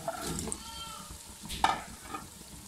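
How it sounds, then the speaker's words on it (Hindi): Potatoes go into frying masala in a pot, giving a close, soft sizzle with stirring and scraping and a brief clatter partway through, with no one talking. "इस टाइम पे मैं इसमें आलू ऐड कर दूंगा"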